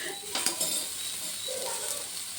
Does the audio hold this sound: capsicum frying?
yes